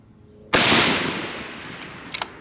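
A single sharp rifle shot from a Remington SPS cracks at an outdoor range, loud and close, with a short fading echo and a few faint clicks afterward.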